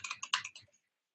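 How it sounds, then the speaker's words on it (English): Quick burst of keystrokes on a computer keyboard, close and crisp, a handful of rapid clicks ending abruptly in silence. "Let's try it again where I'm actually hitting the right keys."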